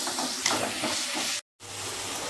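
Chopped onions sauté in a pan for a Tamil mutton chops masala, a steady close sizzle and hiss with faint stirring, broken by a brief silent gap before the frying resumes.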